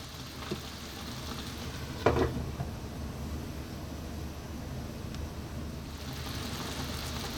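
Chicken hamonado sizzles steadily in a pan, a low continuous frying hiss with a brief stir or clatter around two seconds, no talking.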